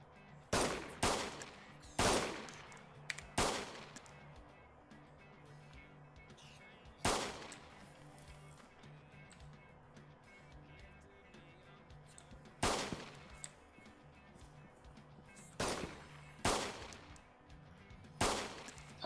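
Sporadic gunfire in the DayZ video game: loud, sharp single shots, some in quick pairs or triplets, separated by quieter stretches over a low background hum.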